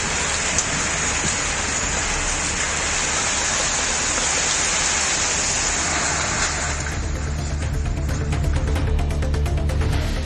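Heavy night rain pours down in Chennai as a steady, dense hiss, with closer drips and splashes on surfaces growing more distinct toward the end.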